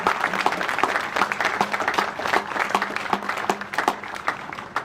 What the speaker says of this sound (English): Let's all give those partners a big round of applause.